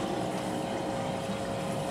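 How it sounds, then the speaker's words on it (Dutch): Cold tap water runs steadily into a bottle, a continuous close-up rushing and gurgling pour that holds at an even level from start to finish with no voices. "wat ik ook wil doen is even lekker een fles water vullen"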